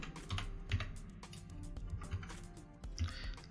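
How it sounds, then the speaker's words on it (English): Keys on a computer keyboard clatter in quick, uneven bursts of taps, close and fairly soft over a low background hum. "I'm gonna type in the wiggle expression"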